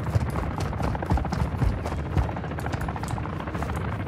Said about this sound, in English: Helicopter, watch out.